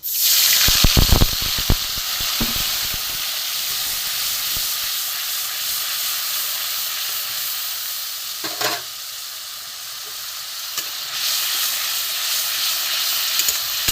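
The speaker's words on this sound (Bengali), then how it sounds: "ফোড়নটা জিরে লঙ্কা তেজপাতা এবার আমি এখানে আদা আর কাঁচা লঙ্কা পেস্টটা আমি এতে দিয়ে দেবো" A tempering of cumin, chilli and bay leaf fries in hot oil, then ginger and green chilli paste goes in, giving a loud continuous sizzle with a burst of crackling at the start and brief stirring scrapes.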